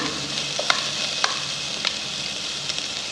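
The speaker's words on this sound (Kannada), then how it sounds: "ಸ್ವಲ್ಪ ಆಯಿಲ್ ಫ್ರೈ ಮಾಡ್ಕೊಳ್ಳೋಣ." Ginger, garlic and chili fry in two spoons of oil with a bright, steady hiss close by, punctuated by a few light stirring taps.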